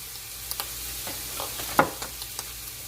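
Mojo sizzling in a pan with sausage and bacon, a close, steady hiss with a few light stirring scrapes and one sharper spatter, no voices.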